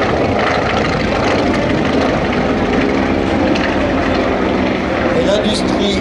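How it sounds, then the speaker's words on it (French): A Junkers Ju 52 landing with air-cooled Argus inverted 12-cylinder engines produces a loud, continuous propeller drone that fills the whole stretch, with a voice talking over it. "Moteur Argus, 12 cylindres inversés refroidis par air."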